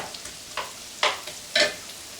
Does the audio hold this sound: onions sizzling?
yes